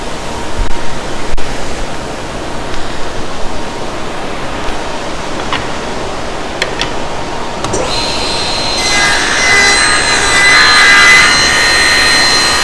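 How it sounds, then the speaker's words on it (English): A large wood sander grinding on a small table part while a dust collector roars, a loud continuous broadband rush that swells louder partway through, with no talking. "we'll take the rest of that off on the big sander over there. So get the dust collectors on"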